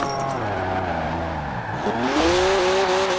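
In Forza Horizon 4, a Mercedes 350D with a 3-litre twin-turbo straight six of 335 horsepower growls close by. Its revs sag, then climb sharply as the tires skid and squeal in a short burst.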